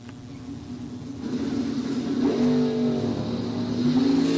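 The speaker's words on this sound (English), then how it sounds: "He's in the Cutlass. Bobby Ince, Sr., he's in the Chevelle" Drag racing Cutlass and Chevelle at a bracket nationals event launching and accelerating hard, the engine roar swelling loud and rising in pitch as they pull away.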